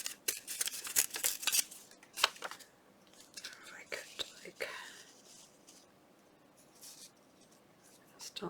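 Scissors snip paper for a collage in close, crisp bursts, followed by soft rustling and handling of paper, with a voice whispering nearby.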